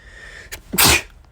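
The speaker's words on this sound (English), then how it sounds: "My bad, guys. I sneezed." A single sharp sneeze from a person, loud and close, preceded by a brief faint intake of breath, with no talk around it.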